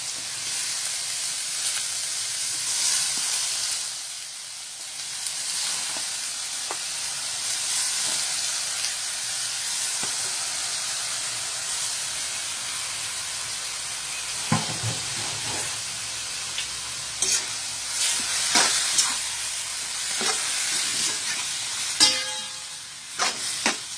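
Squid sizzles in a hot pan for adobo, a steady bright frying hiss throughout with occasional scrapes and clicks of stirring near the end.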